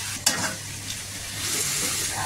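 Food is stirred and sautéed in a hot pan in a home kitchen: a continuous crackling sizzle with a sharp utensil scrape near the start and softer stirring scrapes throughout, close up and without talk.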